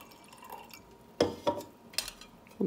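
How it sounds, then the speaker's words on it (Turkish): Alcohol poured into sugar for a homemade blueberry liqueur, heard as a few short, close liquid drips and splashes with small clinks against a quiet background. "biraz alkol ekliyorum"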